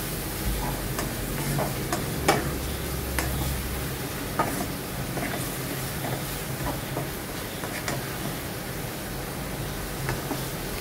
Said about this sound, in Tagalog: Maglagay lang tayo dito ng paminta, konting toyo, at haluin natin siya.